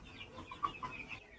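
Poultry chickens, a batch of 400 male Kaveri birds on a farm, clucking softly in short scattered calls against quiet background noise.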